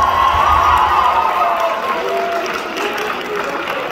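An audience at a school multishow cheers and shouts in a loud, dense crowd roar that slowly tapers off over a few seconds.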